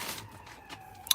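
A siren faint in the distance, a thin sustained wail sliding slightly in pitch, heard on a quiet outdoor allotment with a brief click near the end.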